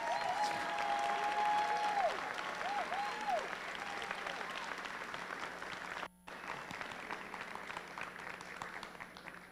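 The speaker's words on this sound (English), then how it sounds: "Let's give her a round of applause." Sustained applause from a large crowd at a school pep rally, dense and continuous, with a brief cut partway through before the clapping resumes.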